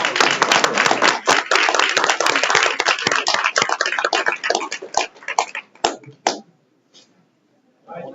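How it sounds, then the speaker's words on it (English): A room full of people claps for two junior basketball players at a school board meeting, a dense burst of applause that thins into scattered claps and fades out after about six seconds. "Let's give them a round of applause."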